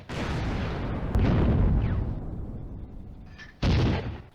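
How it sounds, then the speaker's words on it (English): German Granatwerfer mortar counter-battery fire in the Eastern Front wargame Firefight Ost Front, a loud rumbling blast that rolls away, then a second sharp report near the end, no voices. "The Granatwerfer opens counter-battery fire against the suspected Soviet mortar position."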